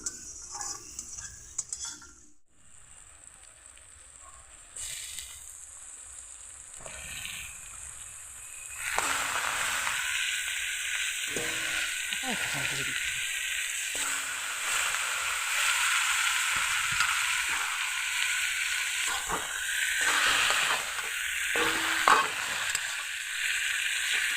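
Washed chicken leg pieces sizzle and fry in a pan of softened tomato and onion with turmeric, a steady loud hiss building after a quieter start, with occasional stirring and utensil scrapes close by.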